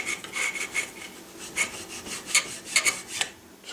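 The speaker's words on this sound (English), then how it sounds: "file a little bit," A file rasps against wood to fit a wooden gun patchbox at a gunsmith's bench, heard as a series of short, close scraping strokes in an uneven rhythm, with about eight to ten distinct passes and no voices.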